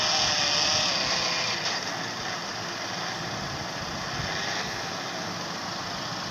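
Steady car engine hum from the Car Simulator 2 video game, a continuous mid-range drone at even loudness with faint vibration, no voices.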